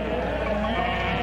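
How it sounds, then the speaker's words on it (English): Sheep bleating in a steady, wavering cry that rises over dense background noise on open grazing land in a Western drama setting. "Sheep on Lancer land."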